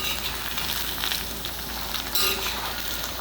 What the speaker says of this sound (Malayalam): ഇതിനി നമുക്കിങ്ങനെ വറുത്തെടുക്കാം.